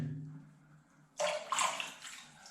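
A sponge is rinsed in water while mosaic tiles are cleaned of cement debris. After a quiet start comes a short burst of splashing and sloshing water, close by and moderately loud, then fading.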